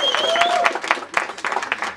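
A crowd claps for the third-place winner at a Babeta moped cup event, with scattered, uneven clapping bursts and a nearby voice speaking over the start.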